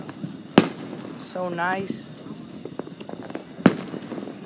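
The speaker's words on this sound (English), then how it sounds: "Look at fireworks right over there." Fourth of July fireworks explode with two sharp, distant booms about three seconds apart, while a person speaks briefly between them over faint background noise.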